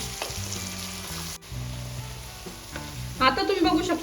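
Tomatoes frying down with onions in a pan for Mumbai street-style pav bhaji, a steady sizzle with stirring scrapes, background hum and a brighter burst of crackling near the end.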